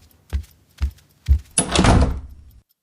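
Three dull thuds come at even intervals, then a door slams with a loud bang and a brief rattling clatter that dies away into silence.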